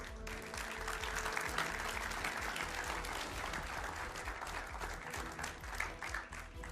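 A studio audience on a televised Hindi debate show claps steadily to welcome two guests, a dense, continuous round of applause throughout with no talking heard.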